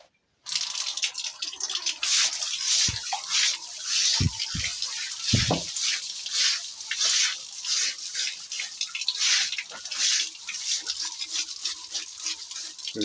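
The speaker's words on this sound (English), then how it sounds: "when you start cleaning, this side gets clean, the water goes down, and then you make it go out." Water splashing and draining across the floor while a goat pen is washed, a steady near wash with irregular drips and a few sharp knocks and scrapes, no voices.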